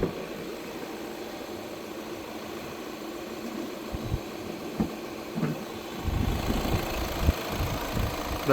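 A 2018 Volkswagen Vento Highline Plus automatic with a TDI diesel engine idling: a steady low diesel rumble heard close up, growing somewhat louder and rougher near the end, with no talk over it.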